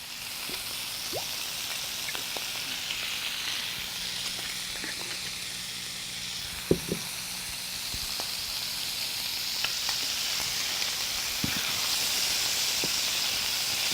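Big, juicy shrimp seasoned with salt and black pepper fry in a pan with a steady, even sizzle and hiss, broken by occasional small pops and clicks, close up with no voices.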